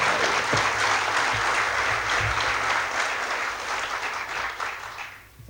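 An audience gives strong applause for a chartered accountant couple at a Gujarati education event: steady, dense clapping from many hands that holds for a few seconds, then fades out.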